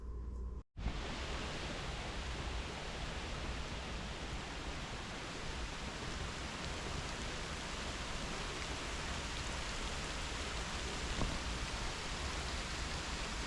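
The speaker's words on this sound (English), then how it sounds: "you can see it's raining like a son of a gun" Heavy rain pours down at a deer camp in Rocky Mountain, North Carolina, a dense, constant roar of falling water that runs unbroken after a brief dropout at the start.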